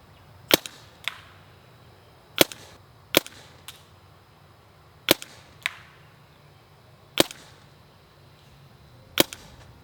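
Planet Eclipse EMF100 magazine-fed paintball marker fired outdoors in spaced single shots, eight or so sharp loud cracks at irregular intervals with quiet between.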